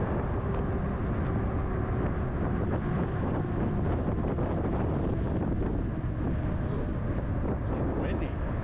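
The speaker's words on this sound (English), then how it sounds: "Oh, it's getting windy." Wind gusts steadily across the microphone during a walk on the Orange Blossom Trail in Redlands, California, a dense, constant rumbling roar that lasts the whole time.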